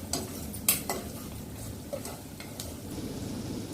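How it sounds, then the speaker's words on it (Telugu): Whole cinnamon, cloves and cardamom fry in a pan for chicken curry, with soft sizzling and a few sharp utensil clinks against the pan. "ఒక చిన్న ముక్క చెక్క, లవంగ, ఇలాచి అవన్నీ ఇవి కూడా వేసుకొని వేగనిద్దాము."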